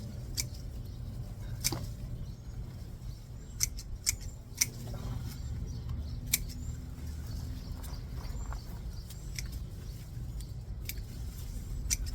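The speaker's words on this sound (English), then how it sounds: "I trimmed these vinca vines too" Garden scissors trim vinca vines with sharp, intermittent snips scattered across a quiet outdoor background, some crisp and close, others softer, with no talking.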